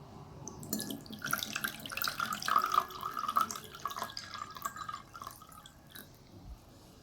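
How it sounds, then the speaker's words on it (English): Water is poured gently into a bowl for a classroom refraction demonstration. It makes a soft, close trickle and splash that lasts several seconds and then tapers into faint drips. "Pour water gently into the bowl."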